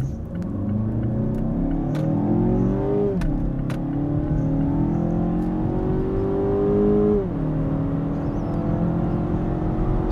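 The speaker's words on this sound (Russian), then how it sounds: "попробую еще раз разгон 0-100, проверим, что у нас получается." A 2016 Mazda 6 with a 2.5-litre engine accelerates hard from standstill to 100 km/h, engine note climbing steadily in pitch, dropping at two gear changes and climbing again, loud and continuous inside the cabin.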